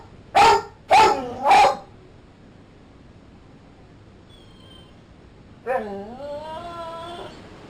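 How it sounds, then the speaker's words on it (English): Chuck the dog barks three times in quick succession from a cage, loud and close, then after a quiet pause lets out a drawn-out whining howl. "it's basically taken Chuck an hour of barking and messing around just to lie down"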